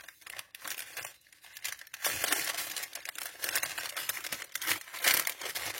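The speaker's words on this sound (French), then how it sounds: "Pardon pour le bruit de ce papier." Sheets of paper crinkle and rustle steadily while being handled for junk journal embellishments. The dry crackling is close and continuous, with a brief lull before growing louder and busier.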